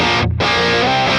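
Dense, slightly gritty, lightly overdriven clean electric guitar tone from a Boss Katana 100 Head MKII amp playing loudly, with a brief dip as the sound cuts out before ringing on again.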